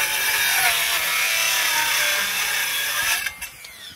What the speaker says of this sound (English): now my blade is angled on the saw. And I'm gonna cut it right at the 1-inch mark, right there on the edge of my board.